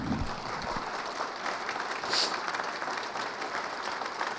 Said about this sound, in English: And thanks for the applause.